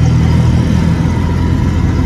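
An auto-rickshaw engine drones steadily during a ride, a loud, close, continuous mid-pitched motor hum with no talking over it.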